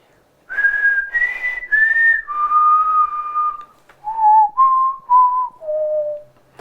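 A person whistles a short melody of about nine clear, sustained notes, stepping downward in pitch, close and alone with no talk.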